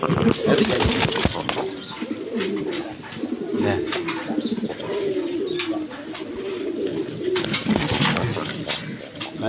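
Pigeons coo softly and repeatedly in a loft where a female sits on eggs. Low, throaty calls carry over steady background noise with faint wing and movement sounds throughout.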